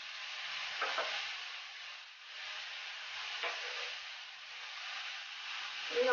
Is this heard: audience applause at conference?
no